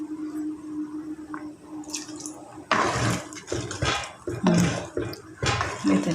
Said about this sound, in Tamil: இப்போ புளி தண்ணி ஊற்றுவோம்.